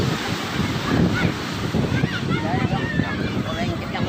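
Steady surf washes onto Sibuluan beach in Sibolga, a continuous broad rushing roar with wind buffeting the microphone, while people talk faintly in the background.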